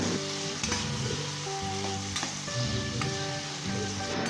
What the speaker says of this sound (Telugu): టమాటాను కూడా వేసి బాగా ఫ్రై చేయాలి